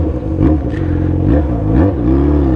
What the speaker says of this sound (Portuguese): Você gosta de moto barulhenta?